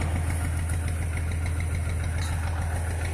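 A Massey Ferguson MF 95X tractor with a broken hydraulic arm idles nearby. Its diesel engine makes a steady, low, throbbing rumble at constant loudness, with no voices over it.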